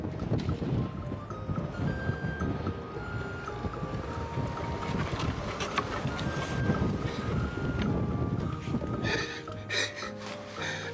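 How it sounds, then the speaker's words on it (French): Strong wind buffets the microphone outdoors near a boat among penguins, a continuous loud roaring gust noise that persists throughout, with faint tonal creaks and a brief thud near the end. "il y a énormément de vent"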